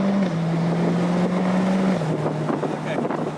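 A Jaguar F-Type SVR convertible driving with the top down, its engine a steady loud drone that shifts pitch slightly partway through, with wind rushing over the open cabin.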